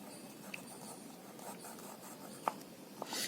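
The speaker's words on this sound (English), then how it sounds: "I am writing in cursive" Ordinal numbers being written in cursive on paper, a very faint, close scratching of pen strokes with a few small taps, soft and intermittent.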